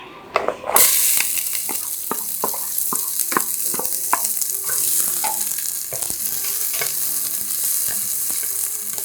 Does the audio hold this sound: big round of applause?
no